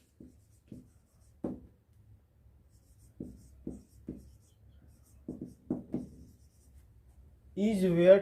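Chalk or marker strokes on a board while writing English words in a Hindi-medium translation lesson: short scratchy bursts in small clusters, fairly close, with a louder voice-like sound at the end.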